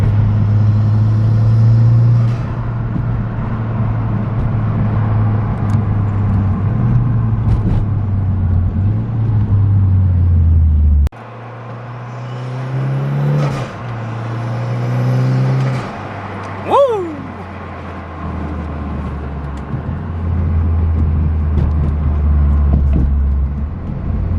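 A Mitsubishi Lancer Evolution X engine drones and revs from inside the car, rising and falling in pitch as it accelerates, with brief talk mixed in.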